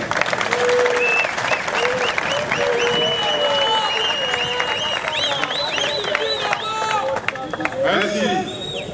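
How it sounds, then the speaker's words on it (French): Loud, sustained applause from a large crowd of young people at a gathering addressed by a prime minister, with dense clapping and cheering filling the whole stretch without pause. "je vais demander un vibrant applaudissement pour tous les jeunes qui sont ici cette année"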